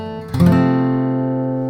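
Acoustic flatpicked bluegrass guitar, one quick hammer-on followed by a single light strum, the chord ringing out and sustaining clearly with no talking.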